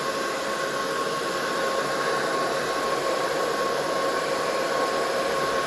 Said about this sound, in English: We're gonna heat this plastic up